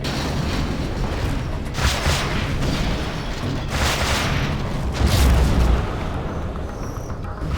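Cruise missile strike in C&C Generals, a series of heavy booming explosions that rumble on at close range, loud and dense with no talk over them.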